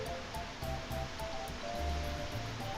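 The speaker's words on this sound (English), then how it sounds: "It started pouring rain." Steady, dense wash of heavy rain, a constant hiss with no breaks, heard from indoors with faint tonal noise underneath.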